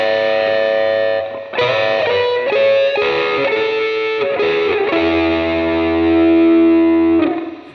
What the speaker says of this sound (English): you can see how the TS808 is, or the clone thereof, is gaining up the sound really quite nicely